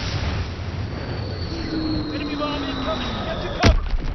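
In a World War II Call of Duty video game, a faint descending whistle is followed by a single sharp, loud glide bomb blast near the end, over steady game noise and someone talking.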